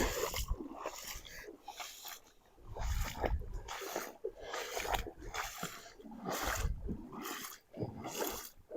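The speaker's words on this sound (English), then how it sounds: "Ooh, we're in the creek." Sloshing and splashing footsteps wade through a forest creek, coming in irregular bursts of swishing water close by with no talk over them.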